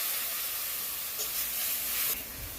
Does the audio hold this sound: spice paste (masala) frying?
yes